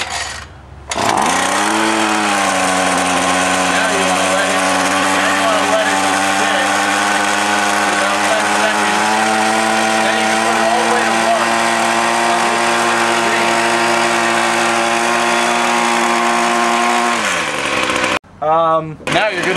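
A weed whacker engine is pull-started at half choke and catches quickly, then runs loud and steady with a buzzing drone for several seconds before cutting out abruptly near the end.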